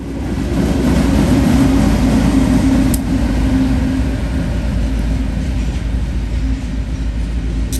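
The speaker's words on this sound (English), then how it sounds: "And shoving on the rear was another BNSF ES-44C4 under remote control by the head-end BNSF." A BNSF ES-44C4 diesel locomotive shoving on the rear of a freight train, a loud, steady low engine rumble with a sustained drone, passing close with no voices.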